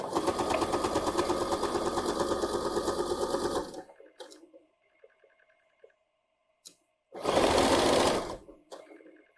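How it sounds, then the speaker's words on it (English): A sewing machine stitches an invisible zipper on a vintage jumper in a steady, fast mechanical whir for several seconds, stops, then runs again in a short burst, with faint clicks between. "I always like sewing from the top so that I can make sure it's looking exactly like I want it to look from the top."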